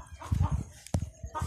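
A desi hen clucking repeatedly nearby, short throaty bursts in quick succession, fairly loud and with no talking.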